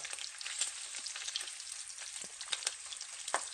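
Bacon fries in a pan with a steady, bright crackle and sputter. Small pops come and go throughout, at moderate loudness and with no voices.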